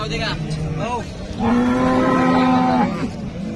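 Cattle at the Sangola cow market in Solapur district lowing loudly and close, several long moos overlapping, with vehicle noise and market bustle around them.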